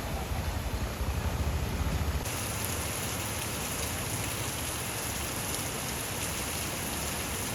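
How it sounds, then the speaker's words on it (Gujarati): Steady rain pours outdoors in a hissing, continuous wash that stays loud for the whole stretch, with a slightly heavier rumble at the very start and no voices. "હવે થઈ ગયો છે વરસાદ ચાલુ હું દેખાડું આમ જો વરસાદ ચાલુ થઈ ગયો છે"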